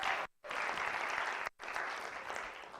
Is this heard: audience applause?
yes